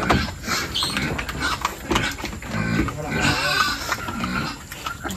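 Piglets fighting in a pen squeal loudly and continuously, shrill overlapping cries close by, with people talking over the commotion.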